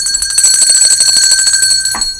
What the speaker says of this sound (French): il faut donner un coup de cloche